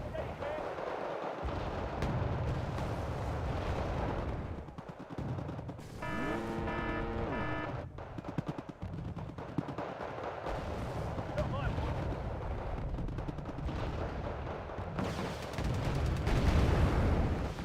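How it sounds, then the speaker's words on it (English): Mortar strikes land in Wargame: Red Dragon, a series of rumbling booms and crackling blasts over a dense battle background, with a brief tonal alert sound partway through and a player talking at times. "Oh, that's such a good mortar strike."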